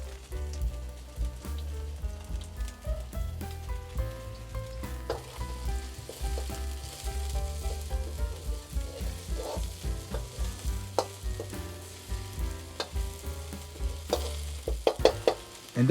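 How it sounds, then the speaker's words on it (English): Garlic and the white parts of spring onions fry in oil in a pan for a homestyle Chinese meal, a continuous crackling sizzle with busy stirring clatter that grows into sharper clanks near the end. "Add the garlic and white sections of spring onions and cook it for about 10 seconds"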